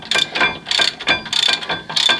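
Ratchet tightening the lug bolts on a 1983 Mercedes 240D rear hub, four quick bursts of close, sharp clicking in a steady back-and-forth rhythm.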